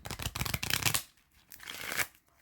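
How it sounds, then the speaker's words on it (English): Two quick bursts of Lenormand cards being shuffled, a longer riffle followed by a shorter one, crisp and close. "So I'm going to shuffle once more."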